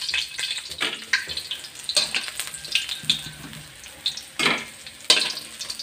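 Chicken fries in a pan, giving a steady crackling sizzle with sharper pops rising now and then, close and moderately loud, with no talking.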